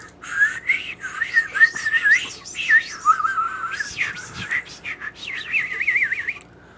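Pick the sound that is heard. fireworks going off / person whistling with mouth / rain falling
person whistling with mouth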